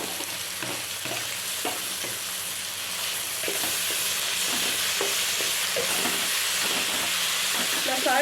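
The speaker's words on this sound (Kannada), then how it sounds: "ಸಣ್ಣಕ್ಕೆ ಹೆಚ್ಚಿಟ್ಕೊಂಡಿರೋದನ್ನು ಹಾಕೊಂಡು ಫ್ರೈ ಮಾಡ್ಕೋಬೇಕು." Chopped tomatoes frying in a pan for upma give a steady, loud sizzle and hiss with occasional stirring scrapes and clinks, growing slightly louder midway through.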